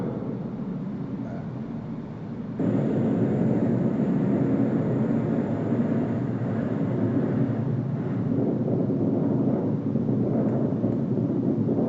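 An airplane landing or taking off roars as a loud, steady, broadband rumble that swells suddenly and holds without a break, rough and close, like a low pass overhead.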